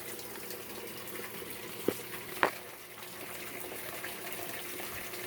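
Water in a backyard aquaponic system flows down into a sump tank as a steady, moderately quiet gushing rush. Two brief plops or splashes stand out just before and around the midpoint.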